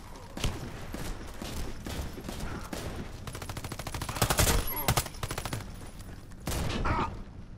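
Shotgun fire in the online shooter Warface, with a dense run of sharp blasts and rapid shots of varying loudness over several seconds, building to a heavier cluster near the end.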